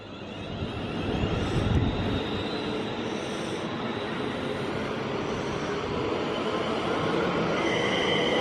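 Trains at Stafford railway station, a steady rumbling roar of rolling stock that swells early and then holds at an even level for several seconds, with no voices over it.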